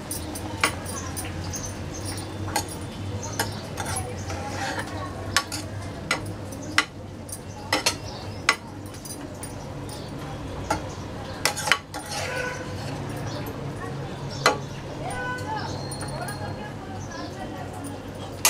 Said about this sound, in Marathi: एकदा ढवळून घेऊ